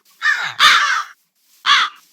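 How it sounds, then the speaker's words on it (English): Crows cawing in the Minecraft Create modpack: three harsh, loud caws close by, the first two back to back and the third after a short pause, with no voices. "Follow me, my army of crows"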